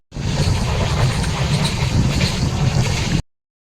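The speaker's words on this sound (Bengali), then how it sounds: "আমরা ট্রেনে উঠে পড়েছি।" Inside a moving train, a steady, loud rumbling ambience with rattling and low mechanical drone fills the space continuously, then cuts off abruptly.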